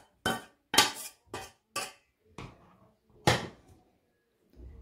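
A utensil clatters against a pot of chicken soup with barley vermicelli while it is stirred, five or six sharp close knocks and scrapes in an uneven rhythm with quiet gaps between.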